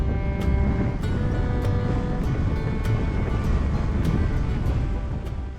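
Wind blows steadily outdoors in the Quartzsite desert, a broad rushing roar buffeting close by with faint periodic ticks, constant throughout.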